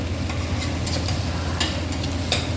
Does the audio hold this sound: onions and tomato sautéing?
yes